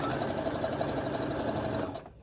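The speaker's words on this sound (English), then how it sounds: "I'm going to sew this strip onto two sides of the square" Sewing machine sewing a fabric strip onto a quilt square, a continuous rapid stitching whir heard up close for about two seconds before stopping abruptly.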